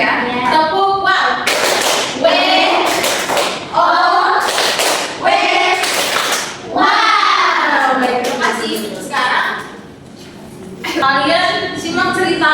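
A primary school class claps a rhythmic 'tepuk wow' chant, bursts of hand claps mixed with children's chanting voices in a lively, loud classroom, with a teacher talking between.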